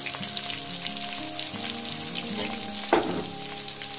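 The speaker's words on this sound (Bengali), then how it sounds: "কয়েক সেকেন্ড ভেজে নিয়েছি। দিয়ে দেবো পেঁয়াজ" Onions frying in hot oil in a pan, a steady close sizzle running throughout with a brief louder burst partway through, while soybean curry cooks; no one speaks.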